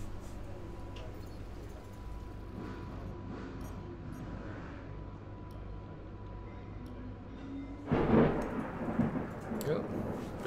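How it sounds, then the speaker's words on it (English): Thunder in the F1 2018 racing game rolls low and distant under a steady hiss of rain, then swells into a louder rumbling crack near the end. "Oh, bit of thunder out there."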